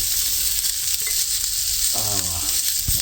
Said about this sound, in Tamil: இப்போ நம்ம இந்த அரைச்சி தேங்காய் உள்ளுக்கு போட்டு